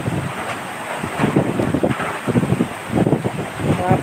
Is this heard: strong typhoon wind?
yes